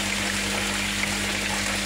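Water rushes steadily into a pond vortex filter bay, a constant close gushing and trickling with a low pump hum underneath.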